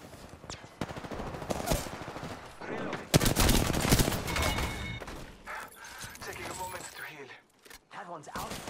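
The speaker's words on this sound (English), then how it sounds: "They're shooting at me!" Enemy gunfire in the shooter game Apex Legends: bursts of rapid automatic shots crackle close and loud, peaking in a dense volley midway, with a player talking over the fire and quieter stretches near the end.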